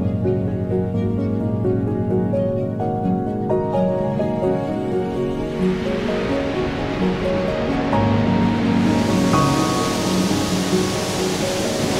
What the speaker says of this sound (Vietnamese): Lần đầu tiên em thấy cái thác nước to như này mà đứng gần như thế này.